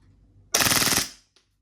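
We Glock 26 airsoft pistol firing a fast burst of about a dozen sharp cracks in roughly half a second, loud and close, followed by a faint click.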